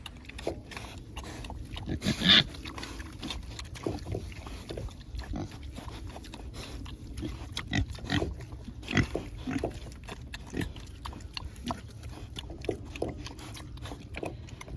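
Three-month-old pigs chew, snuffle and grunt softly while eating peanut butter, with scattered wet mouthing and biting sounds repeating irregularly at a moderate distance.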